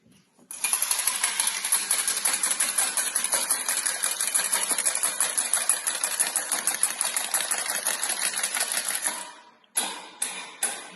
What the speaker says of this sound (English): Meanwhile, I'm going to whisk an egg while they're melting.